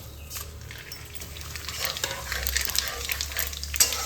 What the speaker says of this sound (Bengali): ফোড়নে 2টো তেজপাতা, একটা শুকনো লঙ্কা আর সাদা জিরে 1 চামচ।